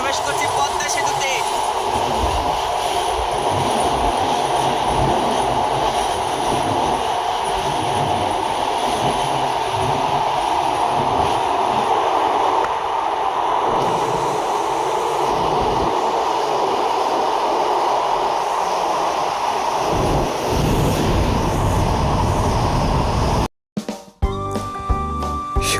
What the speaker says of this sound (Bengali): সুন্দরবন এক্সপ্রেস হলো বাংলাদেশ রেলওয়ে পরিচালিত একটি আন্তনগর ব্রডগেজ ট্রেন